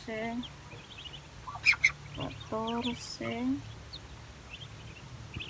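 Newly hatched muscovy ducklings in a backyard give repeated high peeping chirps over a noisy background, close by and moderately loud.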